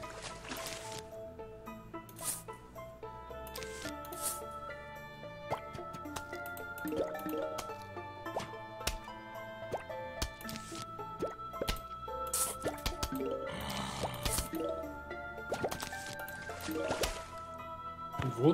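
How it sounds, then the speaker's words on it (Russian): Watery splashing, drips and plops from the Plants vs Zombies video game pool level as a zombie jumps into the water, scattered among game music tones, with no talk over it. "В воду кто-то уже прыгнул, насколько я слышу."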